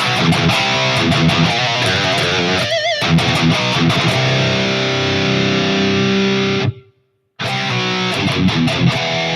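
Heavily processed electric guitar plays distorted riffs and sustained notes through an Axe effects processor, loud and close, with a brief silent gap near the end.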